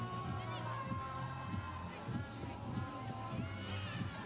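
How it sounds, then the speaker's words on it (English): A stadium crowd murmurs and stirs as spectators file in before the Fiji versus New Zealand women's under-19 football championship final, a steady, dense wash of distant voices and movement. "The crowd slowly coming in for this historical first ever Fiji-New Zealand final"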